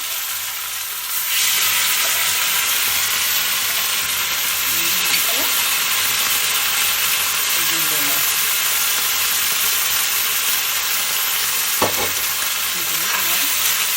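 Boiled knolkhol and potatoes drop into a hot pan and sizzle steadily and loudly throughout, a broad hiss with occasional stirring scrapes, while an Assamese cook prepares a knolkhol and magur fish curry.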